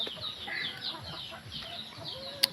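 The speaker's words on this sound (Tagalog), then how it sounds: "Ayan ang mga manok" Chickens cluck and chatter softly nearby in a quiet outdoor setting, with one sharp higher call near the end.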